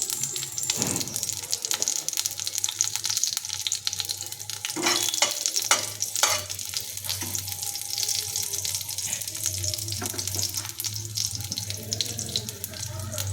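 Nigella seeds sizzle in a small amount of hot frying oil for a moringa leaf sabzi, giving a continuous close-up crackle and hiss with a few sharper spits and stirring clatters along the way.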